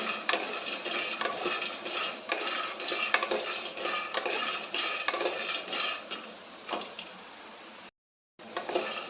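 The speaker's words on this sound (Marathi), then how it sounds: "मंदाचेवर एकदम एकसारखे हलवत असे खमंग भाजून घ्यायचे" Peanuts being stirred and dry-roasted evenly over low heat in a pan, a steady scraping and rattling with repeated stirring strokes, close and moderately loud with no talking.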